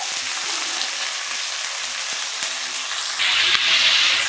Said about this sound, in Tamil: எப்பயுமே எண்ணெய் காஞ்சதுக்கப்புறம் நம்ம கருவேப்பிலை போட்டோம்னா அது அந்த கருவேப்பிலை முறுமுறுந்து வர்றதுக்காக சடச்சடன்னு ஒரு சவுண்டு வரும்